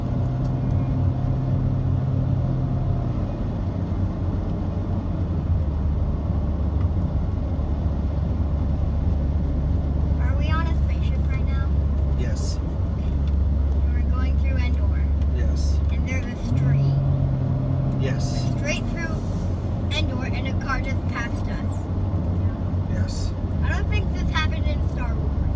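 Road traffic near Crater Lake National Park in Oregon: a steady low engine and road rumble with cars passing continuously, loud and close, under people talking.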